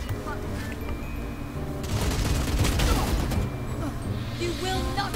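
Rapid automatic gunfire rattles out in a sustained burst during a Valorant match, fairly loud and close, with game effects around it.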